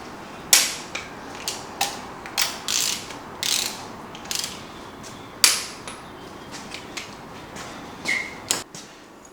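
A ratchet with an Allen key socket tightens engine head studs on a Dart LS7 build, making repeated sharp clicking strokes in short bursts with pauses between them, close and fairly loud.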